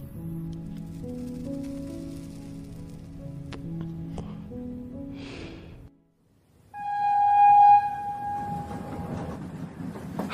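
A train pulling out of Howrah station as a sound effect for a horror audio story: a low rumbling roll, a brief drop to near silence, then a loud horn-like whistle over renewed rumble.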